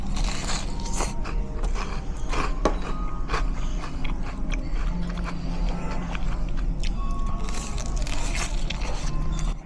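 Close, crunchy bites and chewing of crispy shrimp tempura in a Niigata soba setting, irregular crackling crunches over a steady low room hum.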